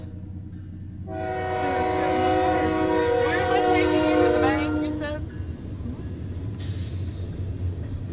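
Canadian National freight train number 2343 passing through Effingham, Illinois: a loud, sustained horn blast with a bright screech of air brakes over steady rumbling rail noise, fading to the rolling clatter of cars as a voice speaks briefly.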